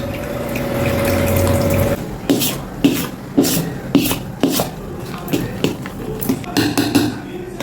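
Soaked sorghum grains being washed in water for idli batter, with wet rubbing and clinking against a vessel in a steady series of near, moderately loud strokes, preceded by a running-water hiss.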